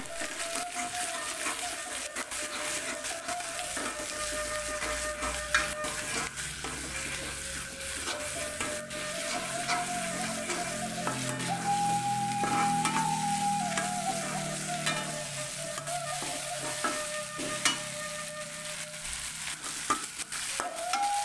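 Ground chili sizzles in a pan for fern stir-fry, a steady frying hiss broken by scraping stirs and light clatters of the spatula against the pan, close and continuous with no talk.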